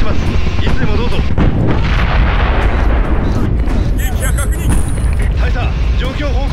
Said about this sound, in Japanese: 発電所を敵もろとも爆破